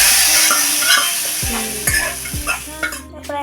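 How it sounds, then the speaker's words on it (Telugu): A hot oil tempering sizzles loudly as it is stirred into cooked dal, a spoon scraping and knocking against the pot several times over a steady frying hiss. "పోపు అందులో వేస్తుంది,"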